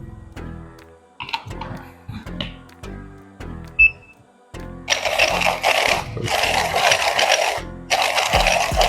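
Mileb M01 hand coffee grinder fitted with a pineapple burr, starting with a few scattered clicks and rattles before settling into steady close crunching and grinding of beans for the last several seconds.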